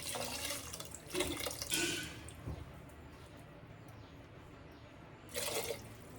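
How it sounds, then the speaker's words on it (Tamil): Faint splashing of water being poured into a pot for banana stem soup in short bursts, with quiet gaps between the pours. "ரெண்டு சொம்பு தண்ணி சேர்த்துருக்கேன்"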